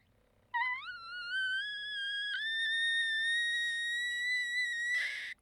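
A person's voice imitates the high whistle of a boiling copper kettle: one sustained, bright, piercing tone that slides up at the start, holds steady for about five seconds and swells harshly at the end.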